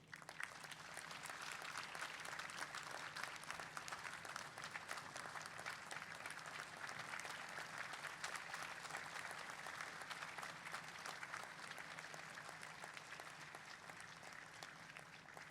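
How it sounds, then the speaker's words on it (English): A large graduation convocation audience gives a standing ovation, dense sustained applause rolling evenly throughout, distant and full-bodied with no pauses. "let us give a standing ovation with a big round of applause to our beloved family"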